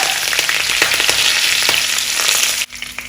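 Curry leaves and dried red chillies crackle and sizzle in hot oil while making Kerala-style chicken pickle, a steady close frying hiss with scattered pops that briefly dips near the end.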